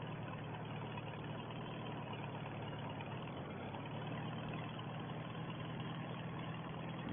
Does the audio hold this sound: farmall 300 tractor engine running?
yes